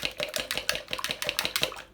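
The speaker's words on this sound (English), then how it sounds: "Now if you haven't got a whisk, get a couple of forks," Eggs beaten with two forks held back to back, eight eggs for omelettes; a rapid, steady clatter of metal against a bowl, close and fairly loud, with no talking.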